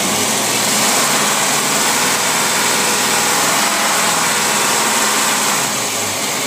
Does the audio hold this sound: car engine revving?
yes